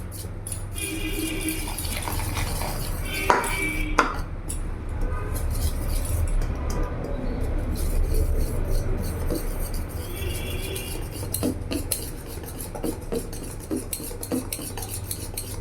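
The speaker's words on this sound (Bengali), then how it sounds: "এইভাবে বন্ধুরা তোমরা ভালো করে ঘুরিয়ে ঘুরিয়ে ভালো করে ফেটিয়ে নেবে" A whisk clinks and scrapes around a bowl as batter for bonde is beaten, with rapid, rhythmic metallic stirring and occasional sharper taps against the rim, close and fairly loud.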